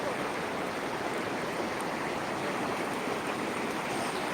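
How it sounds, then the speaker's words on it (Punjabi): Strong floodwater rushes through a village stream in a dense, unbroken roar, loud and close with no pauses. "ਹੱਲੇ ਵੀ ਪਾਣੀ ਘਟਣ ਦਾ ਨਾਂ ਨਹੀਂ ਲੈ ਰਿਹਾ ਹੱਲੇ ਵੀ ਪਾਣੀ ਦਾ ਬਹਾਅ ਬਹੁਤ ਜ਼ਿਆਦਾ ਆ"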